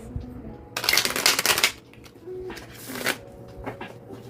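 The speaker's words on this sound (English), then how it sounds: "One more shuffle." Tarot cards being shuffled up close: a dense riffling burst lasting about a second, then a shorter flick of shuffling, with faint bird cooing in the background.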